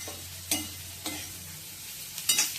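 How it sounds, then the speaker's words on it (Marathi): Pieces of spiny gourd (kantola) tossed and stirred in a hot pan, giving a soft, steady frying sizzle broken by a few sharp scraping stir strokes. "तर आपण हे काटलं टाकणार आहे मी त्याच्यावर."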